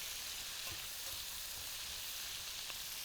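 Cabbage fries in a pot while being stirred, giving off a steady, faint, hissing sizzle with soft shuffling underneath and no voices.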